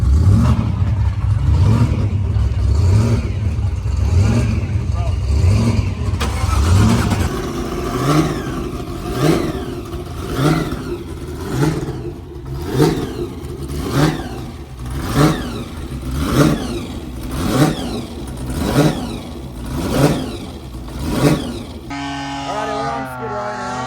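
Car engine revved repeatedly in a rhythmic series of loud throttle blips while being tested for oil leaks before a night out, preceded by a steady idle with voices and ending in a brief different mechanical sound.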